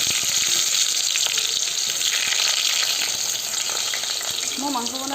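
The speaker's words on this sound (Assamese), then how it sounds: "তেলখিনি গৰম হ'ল, মই এতিয়া ইয়াত আলুখিনি আগত ফ্ৰাই কৰি ল'ম।" Potatoes fry in hot oil with a loud, close, steady sizzle and crackle, light stirring clinks scattered through it, and a brief voice near the end.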